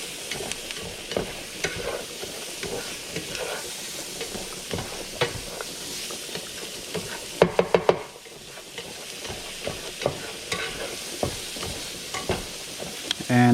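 Bacon sizzling in its own fat in a pan, a continuous crackling hiss broken by frequent scraping stirs and a brief cluster of sharp knocks against the pan near the middle; no talking.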